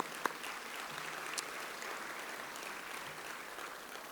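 Audience clapping at a Pasadena State of the City luncheon, a moderate, fairly distant patter of many hands that holds steady throughout, with a couple of sharper single claps standing out.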